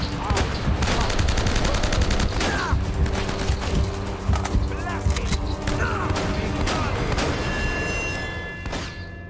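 Rapid gunfire in Uncharted: Drake's Fortune, fired with a controller, crackles in dense volleys and sharp single shots with thuds mixed in, staying loud most of the way before easing off at the end.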